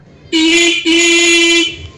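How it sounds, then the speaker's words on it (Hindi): A loud electronic horn on an LML Vespa scooter converted to electric power sounds twice in close succession, a steady high-pitched buzzing tone with a brief break between, then stops. "और हॉर्न भी हमारा चालू हो गया है।"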